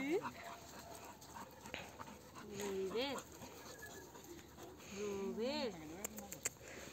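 Several small dogs whimper and yelp in high rising cries, with bursts of excited barking close by, while people talk over them.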